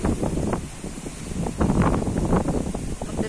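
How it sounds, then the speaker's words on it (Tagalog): Strong wind blows outdoors ahead of an approaching typhoon, a steady moderate rush with gusty swells and no talk. "so ang lakas ng hangin."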